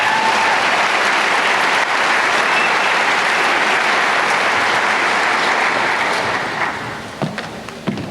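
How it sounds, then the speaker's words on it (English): A graduation crowd in a large hall claps loudly and continuously, a dense wash of applause that thins and fades toward the end, with scattered individual claps. "Let's give her a round of applause."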